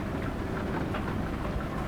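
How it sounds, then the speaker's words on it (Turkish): Steady, dense rain hiss pours down throughout in Euro Truck Simulator 2 multiplayer, loud and even with no gaps, suggesting heavy in-game rainfall while driving. "Bu nasıl yağmur bir türlü anlam veremedim"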